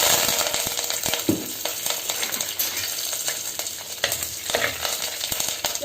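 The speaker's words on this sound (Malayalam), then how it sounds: "നമ്മുടെ എണ്ണ ചൂടായിട്ടുണ്ട്. ഇനി നമുക്ക് കടുകും ഉലുവയും ഇട്ട് കൊടുക്കാം." Mustard seeds and fenugreek sizzle and crackle in hot oil in a pan, a steady bright frying hiss broken by a few clinks of a stirring spoon.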